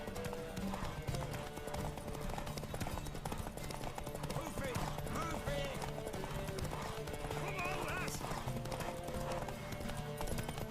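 Horse galloping in a race in The Witcher 3, steady rapid hoofbeats with occasional whinnies, mixed with game music and a voice shouting encouragement throughout.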